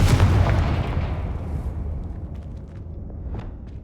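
Confringo and Bombarda spells blast in Hogwarts Legacy: a loud explosive boom at the outset decays into crackling debris and rumble, with a small secondary pop near the end.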